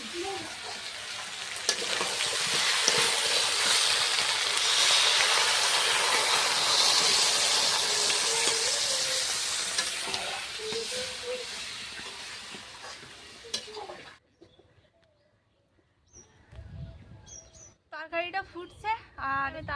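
Chicken curry in a pot hisses and sizzles loudly after water is poured into the browned meat, a steady close bubbling hiss for most of the stretch, then fading to quieter spells with a voice speaking near the end.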